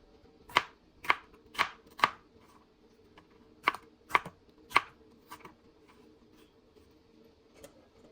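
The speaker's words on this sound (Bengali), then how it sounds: "এই যে এটাকে একটু কুচি কুচি বেশি করব" A knife chops green mango into fine shreds on a board, with about eight crisp, evenly spaced knocks in the first five seconds, then a few softer, sparser taps over a faint steady hum.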